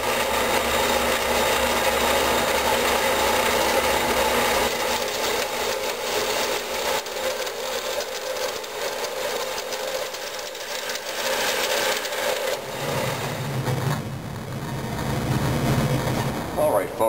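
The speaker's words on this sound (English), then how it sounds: "So I'll go ahead and trim this off on the saw" A bandsaw trimming excess material off a workpiece: a steady, loud rasping cut with a constant hum, the tone shifting as the blade finishes and runs free near the end.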